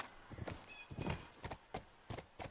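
Horse hooves in The Last of Us video game clip-clop at a walking pace, a series of fairly faint, evenly spaced thuds on hard ground, with no talk over them.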